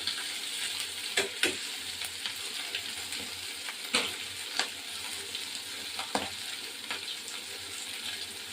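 Onion and cauliflower fry in a pan with a loud, continuous sizzle, broken by sharp clinks and scrapes of stirring every second or two.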